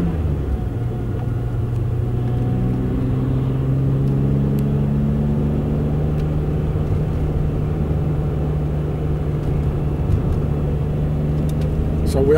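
A car drives along a mountain road in Alsace, France, toward dusk, giving a steady low engine and road rumble with a sustained hum that holds nearly constant, close and continuous throughout.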